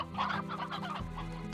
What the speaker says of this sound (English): God, just look at all those tasty chickens.